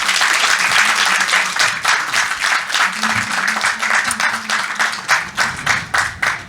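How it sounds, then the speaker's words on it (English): An audience at a festival talk on children and online threats bursts into a sustained round of applause, dense clapping filling the room with some voices mixed in. "I will invite everybody to give them a big round of applause."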